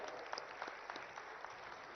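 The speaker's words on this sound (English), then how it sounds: "let us welcome him with a huge round of applause" Applause at the opening ceremony of the BioAsia 2026 conference in Hyderabad, a steady patter of many hands clapping at once, fairly faint and distant, with no voices over it.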